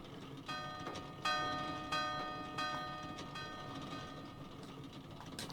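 A bell rung in the video game Animal Crossing: several clear metallic rings with lingering ringing tones, each decaying before the next strike, over a faint steady background hum.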